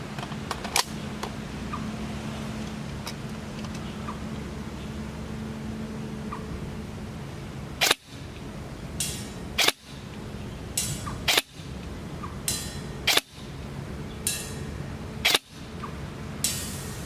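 Airsoft rifle with a modified T-hop and HS+ barrel fires 0.4 g BBs at a half-body target 50 m away outdoors; six sharp, separate pops come at roughly two-second intervals after a quiet stretch, over a steady low background hum.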